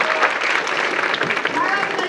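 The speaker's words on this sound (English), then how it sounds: "one last round of applause" A room full of people clapping at a Writers Week gathering, a short burst of brisk, steady applause heard close with voices mixed in.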